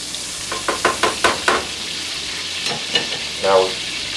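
Butter melts in a hot pan, giving a soft, continuous sizzle broken by a quick series of sharp scraping stirs and a short burst of crackling near the end.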